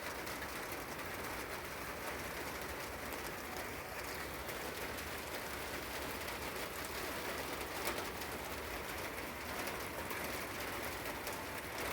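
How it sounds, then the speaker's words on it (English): Steady rain hisses densely and evenly while pigeons and other birds call faintly underneath, the wash of rain dominating throughout. "The birds do not mind getting wet in this rain."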